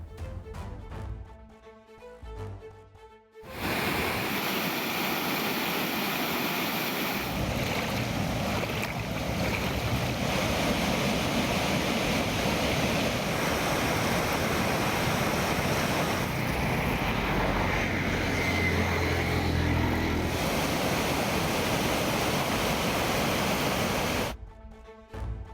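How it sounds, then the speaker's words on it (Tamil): Floodwater of the swollen Thamirabarani river at Kuzhithurai rushes over a submerged causeway bridge, a loud, continuous roaring wash that holds steady for over twenty seconds after a short, quieter opening. "ஆறுகளில் தண்ணீர் கரை புரண்டு ஓடுகிறது"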